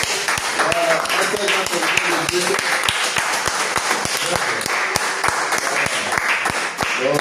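Church congregation applauding to acclaim the Lord, a steady wash of many hands clapping throughout, with a rhythmic beat underneath and voices mixed into the crowd noise.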